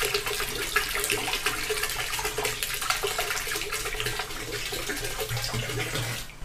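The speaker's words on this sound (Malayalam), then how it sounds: "EM സൊല്യൂഷൻ ഇതിലേക്ക് നമ്മൾ ഒഴിച്ചു കൊടുക്കുകയാണ്" EM solution is poured into a drum of jaggery water, giving a continuous splashing, gurgling stream that stays fairly steady for several seconds, alone and without talking.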